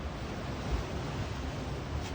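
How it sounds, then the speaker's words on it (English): Ocean water washes in over the rocks at Leo Carrillo State Beach, a steady, even hiss of surf with faint wind and no distinct individual wave breaks. "You can see the water coming in here."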